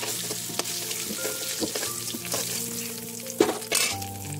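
Potatoes frying in hot oil in a pan give a steady, close crackling sizzle with a few clinks, under faint background music.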